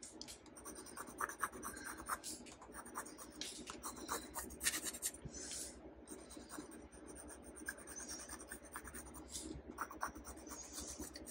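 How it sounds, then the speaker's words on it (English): An HB pencil draws lightly on watercolour paper for a boab landscape sketch, producing close, dry scratchy strokes in irregular bursts with short pauses between lines. "So I'm just using a HB pencil."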